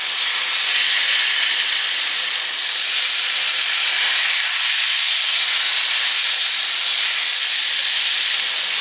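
Steak sizzling in a skillet with butter gives a steady, loud, close hiss throughout, with no pause.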